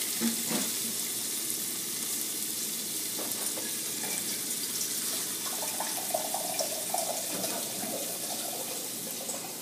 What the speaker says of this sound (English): And then you right now want to pour some water inside of it.